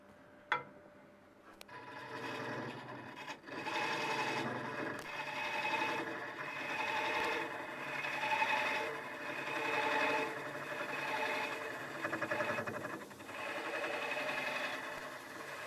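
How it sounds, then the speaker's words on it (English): A swivel head wood lathe turning a hollow form vase, a steady close hum with rhythmic tool scraping and cutting that swells and eases in long passes, starting after a sharp knock. "Having a swivel head lathe makes life a lot easier."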